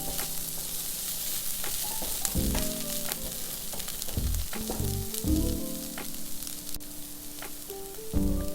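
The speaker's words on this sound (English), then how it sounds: "Be careful not to burn the spices. Keep stirring." Spices frying and sizzling steadily in a pan over medium heat for shakshouka, with a continuous crackle and repeated scrape-and-clatter of stirring over the oil.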